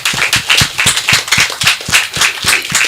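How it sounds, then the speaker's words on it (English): Audience clapping at a chimpanzee census launch in Uganda, a rhythmic run of sharp hand claps in a steady beat, fairly close and loud, with a crowd clapping in unison. "Let's clap the Jane Goodall Institute."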